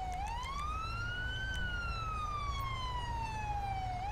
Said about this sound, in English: He's just driving around with lights and sirens on, which makes no sense.